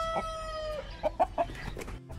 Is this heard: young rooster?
yes